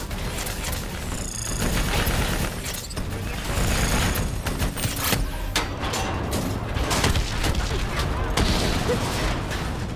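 Sustained gunfire aimed at a VTOL aircraft during a Call of Duty: Black Ops 3 battle, a dense, continuous barrage of shots and booms mixed with shouted squad voices and mechanical combat noise.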